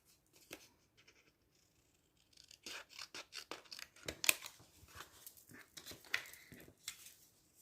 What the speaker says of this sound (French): Alors, on va découper.